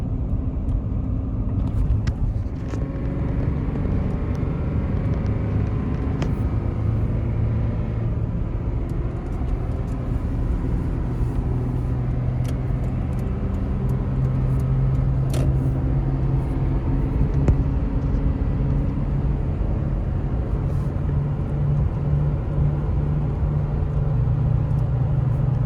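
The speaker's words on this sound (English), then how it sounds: "Sounds like a new truck." A Toyota Tundra pickup drives along after a needle bearing and CV axle replacement, producing a steady low engine and road rumble inside the cab that holds evenly throughout, with no talking.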